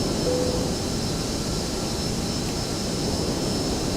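ToLiSs Airbus A321 in the X-Plane 11 flight simulator, a steady broadband jet engine roar with airflow hiss, constant and loud throughout.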